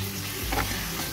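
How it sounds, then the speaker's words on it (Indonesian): Minced chicken, about 200 grams, stir-frying in a pan after aromatics, a soft continuous sizzle with faint stirring scrapes, low and close with no talking. "di sini akan aku masukkan 200 gram daging ayam cincang"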